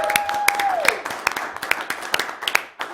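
A small handful of people clap sparsely at a city council candidate forum, producing scattered, separate claps with gaps between them after a brief tone at the start.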